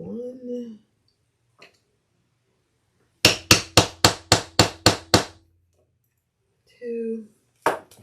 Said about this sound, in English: I'm going to do my big wide rivets.